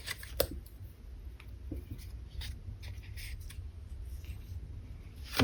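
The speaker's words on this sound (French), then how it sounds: "À découper nos rubans." Scissors snipping gift ribbon, a few sharp, quiet cuts spaced over a few seconds with light handling rustle between them in a calm indoor room.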